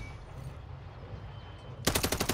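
Call of Duty gunfire through a door: a rapid automatic burst of loud, evenly spaced shots cuts in after a stretch of low background rumble and keeps going to the end.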